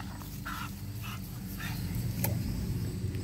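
A bully breed dog growling in a yard, a faint, low, steady rumble with a few short louder sounds over constant background noise.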